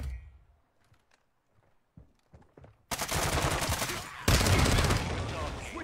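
In a video game, an automated turret opens up in two long, loud bursts of rapid gunfire after a few quiet seconds of scattered clicks.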